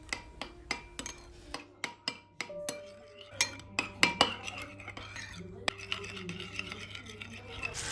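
A spoon stirs ketchup and mayonnaise together into a burger sauce in a bowl, giving a steady series of sharp metallic clinks and scrapes, close and fairly loud, under faint background sound.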